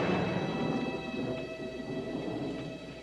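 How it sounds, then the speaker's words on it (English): Rolling thunder rumbles through a steady rain shower, a continuous low, heavy roar that holds for about three seconds without any voices. "You know what that is? That's thunder."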